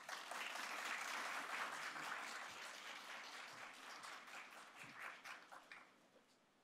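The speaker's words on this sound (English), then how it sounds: "round of applause for Congressman Levin" Audience applause for a congressman at a military spouses event, a sustained crowd clapping that starts full and gradually thins out, with scattered claps trailing off at the end.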